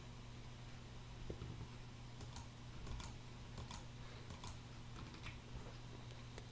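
Keys on a computer keyboard are pressed in a sparse, irregular run of soft clicks, close by and quiet over steady hum and hiss, with no voices.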